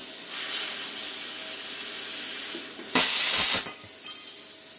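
Arccaptain CUT50 plasma cutter slicing through metal: a steady loud hiss of the torch, then a sharper, louder burst with crackling near the end, close up and with no talk.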